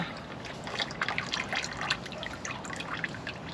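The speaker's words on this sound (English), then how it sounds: "just let the oil drain. It should drain out like that." Engine oil draining from a 2014 Kia Optima into a catch pan, a steady trickling, splattering stream with small irregular drips, close and moderately loud, with no voices.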